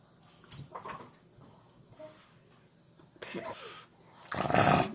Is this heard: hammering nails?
no